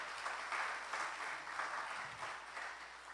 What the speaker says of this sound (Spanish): Alguien dale un aplauso al Señor.